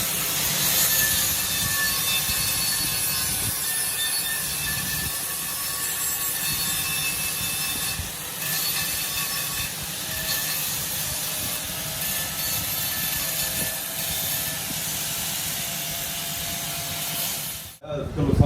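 A grinder works on a broken car wheel rim with a continuous harsh, hissing abrasive roar, loud and close for many seconds before cutting out abruptly near the end.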